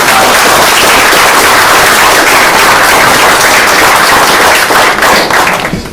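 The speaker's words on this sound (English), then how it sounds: "Big round of applause." Loud, dense round of applause from the audience at a township board meeting, sustained clapping filling the room for several seconds before starting to taper off at the end.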